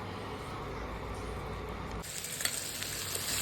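Chopped snake gourd (padwal) tipped into chana dal in a pan sets off a soft, steady sizzle with light crackling and a faint stirring scrape, fairly quiet and close, with no one talking.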